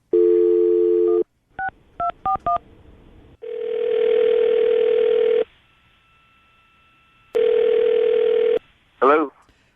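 An outgoing telephone call on a radio show: a steady dial tone, a quick run of touch-tone dialing beeps, then two long ringback tones separated by silence, ending with a brief chirping click, all clear and close.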